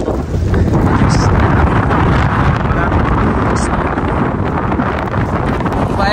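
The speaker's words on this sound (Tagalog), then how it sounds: "sobrang lakas ng hangin" Strong wind roars steadily and loudly across a microphone in Greenland near an airport on a snowy road after melting and heavy rain, a continuous buffeting rumble throughout.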